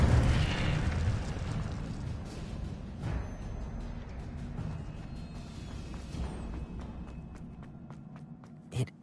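Spell effects from Hogwarts Legacy erupt as a rumbling magical blast that slowly fades, with crackling pops and a few sharp transients scattered through, ending in a brief punchy hit.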